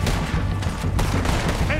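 Red Dead Redemption 2 gunfire in a close, dense burst of several overlapping shots during a firefight, with game voices mixed in.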